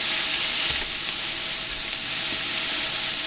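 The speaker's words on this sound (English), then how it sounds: "we're just going to brown some ground beef" Ground beef browning in a pan, a loud, close, continuous sizzle and hiss with a few faint scraping stirs, no voices.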